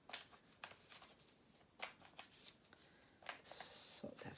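Tarot cards are shuffled in quick riffling bursts, crisp and close, repeated several times with short pauses between.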